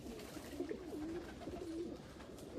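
A racing pigeon in a loft coos softly, a few low warbling calls repeated over a constant background murmur.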